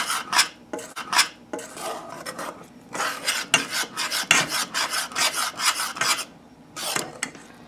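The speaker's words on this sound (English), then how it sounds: "A little more stirring." A spoon scrapes and rasps steadily against the bottom of a pot of rice pudding (arroz con leche), a brisk repeated stirring rhythm of gritty strokes, close and clear with no talking.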